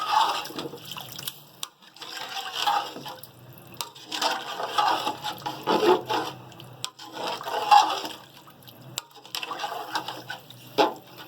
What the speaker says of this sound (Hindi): ये 1 गिलास मैं सादा पानी डालूंगी।